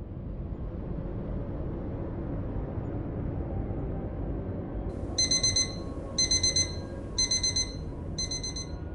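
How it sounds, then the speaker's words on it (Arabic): An alarm clock rings in four short, evenly spaced bursts of electronic beeping, bright and distinct over a low steady background hum, with no talking. "جرس المنبه رن الساعة 6:30"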